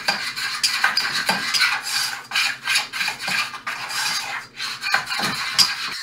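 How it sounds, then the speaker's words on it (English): Homemade play clay stirred continuously in a pot on a stovetop, with a steady, loud scraping and rasping of the utensil against the container. "the idea is to keep stirring it the whole time"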